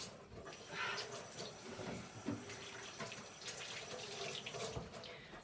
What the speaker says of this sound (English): let me wash my hands quick.